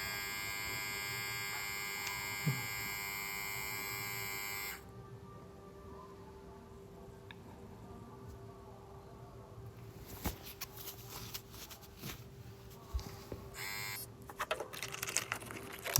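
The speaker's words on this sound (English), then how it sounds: "Okay, let's turn on the trimmer." A Xiaomi Beard Trimmer 2C runs close by with a bright, high-pitched electric buzz for several seconds, then switches off, leaving faint handling clicks and rustles.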